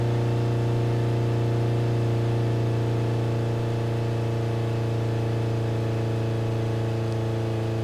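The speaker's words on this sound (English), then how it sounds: "We're just going to watch this thing kind of give up the ghost because you can hear it revving down." Engine of an Ibishu Kashira ZX 3.5 AWD car in BeamNG.drive, a steady droning hum with strong low harmonics, holding loud and even throughout with only slight drift as it winds down.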